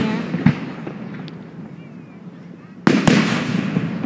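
Fireworks at an outdoor show go off in two loud, sharp bursts, one early and another near the end, with crackling rumble between them.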